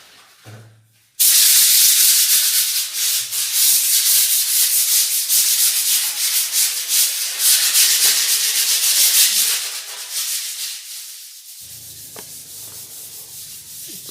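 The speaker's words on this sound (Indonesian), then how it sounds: "Jadi sobat sekalian, tujuan kita mengamplas ini adalah supaya dinding kita itu halus." Fine sandpaper rubs steadily over a plastered wall, a continuous close scratchy hiss that runs for most of the stretch, then eases to a quieter rasp near the end.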